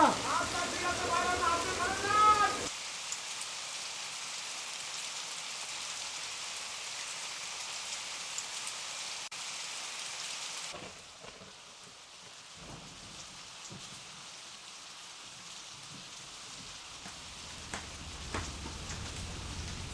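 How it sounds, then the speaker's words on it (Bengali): Rain falling during a storm, a steady hiss that cuts off and returns more faintly, with a low rumble underneath and voices speaking at the start. "বাতাস কিন্তু বাড়তেছে, বিশাল ঝড় তুফান"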